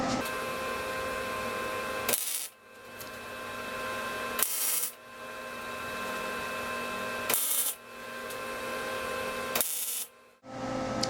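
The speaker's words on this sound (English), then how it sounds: "we're going to start by putting some tack welds in here into place" MIG welder laying tack welds on a steel chop saw stand, a steady buzzing hum sustained for about two seconds at a time and broken by short silent pauses between tacks, close and even in level.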